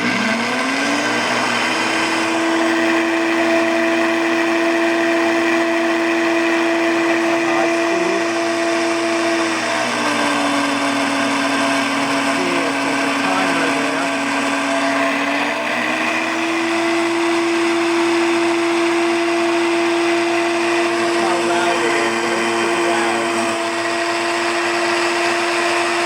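A 1450-watt Homgeek professional blender making a smoothie whirs loudly and continuously, its motor pitch stepping down and back up as the speed shifts, close and steady with no talking.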